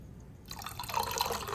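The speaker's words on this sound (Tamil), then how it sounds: "இப்போ தண்ணி ஊற்றிக்கலாம்" Water being poured into homemade grape squash, a soft liquid splash and trickle that starts abruptly after a short silence and keeps running steadily to the end, close and moderately loud, with no talk.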